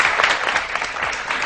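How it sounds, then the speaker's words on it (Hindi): Studio audience on a morning television show breaks into applause, a dense, continuous patter of many hands clapping at an even level throughout. "एक दफा गोल्डन पर्ल के लिए बहुत सारी तालियां प्लीज।"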